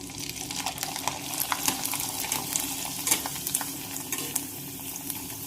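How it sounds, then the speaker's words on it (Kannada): Homemade disco papdi fries in hot oil, giving a steady, busy sizzle with crackling pops and occasional stirring scrapes close by, with no voices. "ಇವು ಪಾಪಡಿ ಮಾಡ್ಕೊಂಡಿವಲ್ಲ ಇವತ್ತನ್ನ ಫ್ರೈ ಮಾಡ್ಕೊಂಡು"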